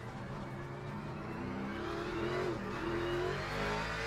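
A BMW hypercar's engine revs in a racing video game, a rising, sustained roar that builds in the second half and holds loud and steady.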